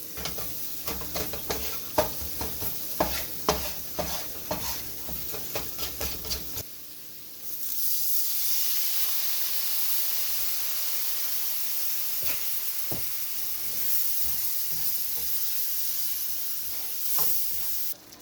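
A roux for shrimp and grits is stirred and cooked in a pan, with a steady sizzle and hiss under scraping strokes that gives way to a continuous, even frying hiss.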